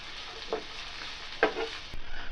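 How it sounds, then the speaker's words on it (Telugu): Green chillies, garlic and curry leaves frying in a pan for poha upma, a quiet continuous sizzle with two sharper stirring scrapes and a brief clatter near the end. "పచ్చిమిర్చి వెల్లుల్లి ముక్కలు కొద్దిగా కరివేపాకు ఇవన్నీ కలుపుకోవాలి దూరగా వేగేటట్టుగా ఆ విధంగా కలుపుకోవాలి"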